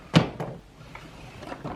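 A makeup drawer slides shut with a sharp thump near the start, followed by a few lighter knocks and rattles of items inside; close and fairly clear, with no talking.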